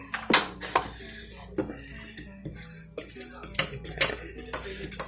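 Spoon stirring strawberry cobbler batter with salt in a bowl, giving repeated clinks and scrapes against the bowl in an irregular rhythm, close and fairly loud, with no talk.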